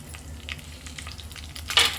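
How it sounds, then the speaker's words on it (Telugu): Slit green chillies frying in hot oil for lemon rice, a steady low sizzle with a few soft crackles and a sharper spatter near the end. "ఆ 3 పచ్చిమిరపకాయలు వేసేసి అవి కూడా కొంచెం కలర్ మారేంత వరకు చక్కగా నూనెలో వేయించేద్దాము"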